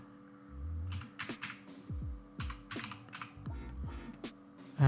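Typing on a computer keyboard, a quick run of crisp key clicks in irregular bursts close to the microphone, over a faint steady hum.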